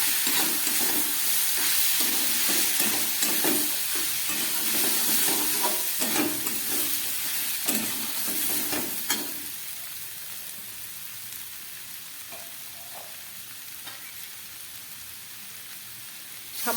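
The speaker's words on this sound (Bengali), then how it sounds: "সামান্য একটু জল দিয়ে দিচ্ছি আর একটু ভালো করে কষাবার জন্য।" Kabuli chickpea masala sautéing with dry chilli powder, cumin, coriander and chana masala in a pan: a close, steady sizzle with stirring scrapes that calms to a softer simmer partway through.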